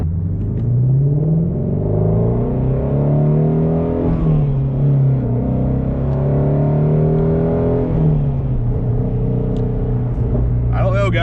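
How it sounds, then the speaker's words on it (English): Shelby GT350 Mustang with a flat-plane-crank V8 rumbles and revs steadily from inside the cabin, the engine note rising and falling continuously throughout with a brief sharper sound at the very end. "Listen to that exhaust, guys. My God, the flat plane crank in this thing sounds friggin' awesome"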